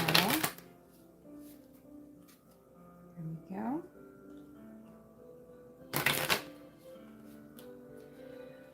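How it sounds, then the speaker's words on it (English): Crisp papery riffling of an oracle card deck in two short bursts, close by, with a voice speaking softly between them. "I'm gonna shuffle them. I think you can hear that happening."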